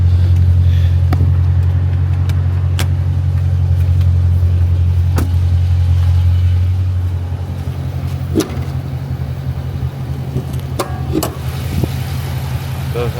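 Donor car engine for a Dodge 300 build runs steadily at idle, a loud, continuous low rumble that slightly softens midway, with a few clicks and taps over it.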